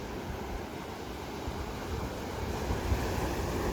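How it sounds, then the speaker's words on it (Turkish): Sea waves wash against the shore after a heavy downpour at a beach campsite, giving a continuous broadband rush mixed with wind buffeting the microphone and no speech. "denizdeki dalgalar"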